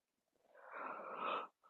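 A person yawning during a calm, slow ear-touch exercise: one long breathy exhalation that swells over about a second and then cuts off, followed by a faint breath.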